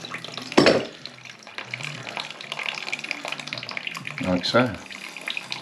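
Water runs and splashes into a cut ceramic toilet pan during a bathroom refit to test whether the bung holds, giving an uneven close gush with bursts of pouring, and someone speaks briefly over it.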